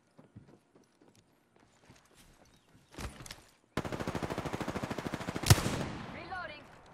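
Rapid automatic gunfire from an Apex Legends firefight crackles in a steady burst after a few scattered earlier shots and footsteps, with a louder impact near the end.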